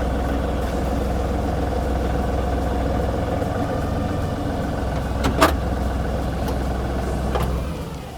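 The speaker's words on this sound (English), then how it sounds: "Shut off the tractor." A tractor engine runs at a steady low idle close by, its continuous rumble holding throughout with a couple of brief mechanical clicks, dropping away at the very end as it shuts off.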